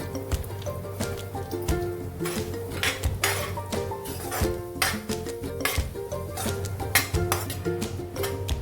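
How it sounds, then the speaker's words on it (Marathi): Rice roasting in hot ghee in a kadhai over low heat, with continuous stirring, gritty scraping and rattling clinks of the spoon against the pan, close and without speech. "सतत हलवत आपल्याला हे छान असं लालसर होईपर्यंत भाजून घ्यायचं"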